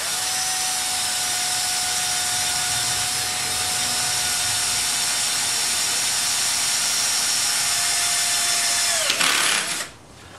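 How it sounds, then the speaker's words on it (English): A power drill whines steadily at high pitch for several seconds, grinding into a rounded metal pipe, then winds down and stops abruptly near the end. "It's a little hard at first drilling into a rounded surface like this"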